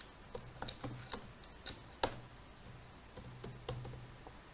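Someone types C++ code on a computer keyboard, producing a steady run of crisp, close key clicks with an uneven rhythm and one louder tap, and no voices.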